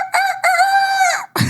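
A man imitates a rooster crowing with his voice, one long, loud cock-a-doodle-doo with a rising start and a sustained, wavering tone. A short burst of noise follows right after it.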